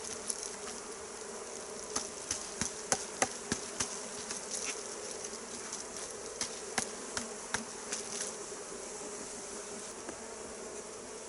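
Honeybees buzz steadily around an open hive, a soft, continuous drone that is fairly faint, with frequent small clicks and taps from the hive frames scattered throughout.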